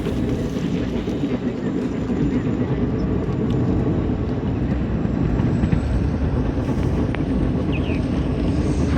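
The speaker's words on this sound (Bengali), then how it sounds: "এই দেখুন বিশাল বড় ট্রেন, বিশাল লম্বা ট্রেন, অনেকগুলি বগি রয়েছে" A long train with many coaches passes on a cold, foggy day, producing a dense, continuous low rumble that stays loud and unbroken from start to end.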